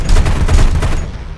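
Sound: aircraft cannon fire in War Thunder video game

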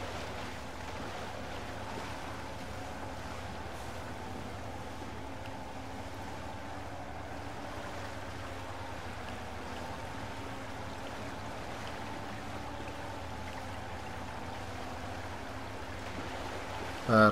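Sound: truck fording a river in the video game MudRunner

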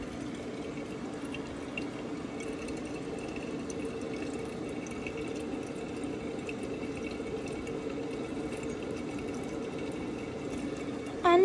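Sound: Samsung washing machine filling with water

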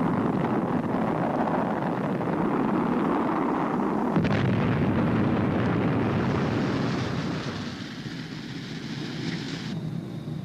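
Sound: Sub-Harpoon missile hitting target warship, explosion

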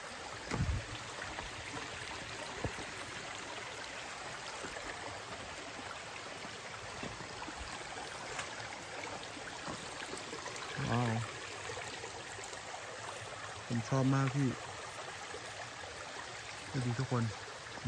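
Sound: water flowing through a stream bed

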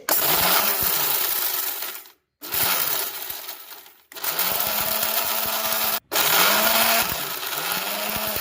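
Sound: mixer grinder pulsing spices

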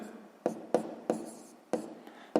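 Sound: writing down a math expression

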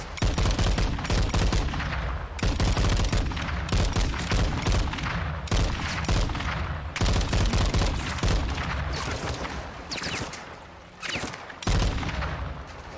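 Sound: gunfire in the Modern Warfare 2 video game

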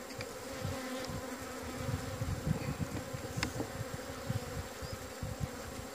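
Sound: agitated honeybees buzzing at hive

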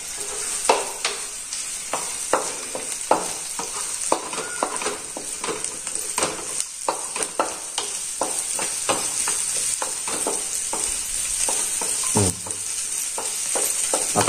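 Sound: onion frying in a pan for poha

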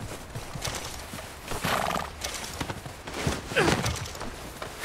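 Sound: horse walking and neighing in a video game

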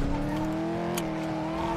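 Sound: Gauntlet car driving in a video game (GTA, NoPixel)

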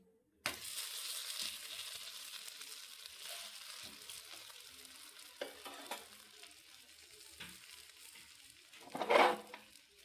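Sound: tomato onion dosa sizzling in oil on pan

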